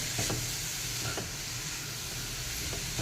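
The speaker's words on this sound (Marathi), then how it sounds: "आता हे सुद्धा आपण एखादा मिनिट परतून घेऊया" Vegetables stir-fried in a pan as filling for semolina veg momos, a constant dense sizzle and hiss with soft rhythmic scraping of a spatula, close up and without speech.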